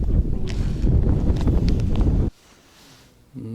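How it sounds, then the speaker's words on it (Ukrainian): Loud, buffeting wind rumbles across the microphone on a frozen lake during ice fishing for about two seconds, then drops away abruptly into near quiet with a faint sound at the end. "Вітер задув."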